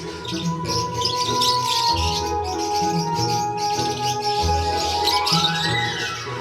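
African lovebirds in a breeding setup chirp and tweet continuously, a busy layered chatter of short calls with occasional rising squawks, close and fairly loud throughout.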